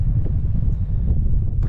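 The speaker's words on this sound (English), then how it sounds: "it's turned really windy" Strong wind buffets the microphone at a wild camp on a small fell, a loud continuous low rumble that gusts unevenly throughout.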